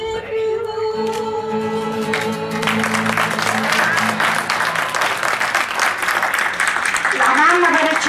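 An audience bursts into applause partway through, dense clapping building and holding loud and near after a stretch of quieter sound, with a voice briefly heard over it.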